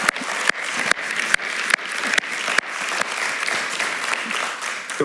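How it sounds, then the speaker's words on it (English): An audience at a festival talk gives a warm round of applause after a Q&A with Luke Kemp, brisk and sustained clapping from a sizeable crowd with a few sharp claps standing out near the front. "I would especially like to give him a very warm round of applause, Luke Kemp, for this Q&A."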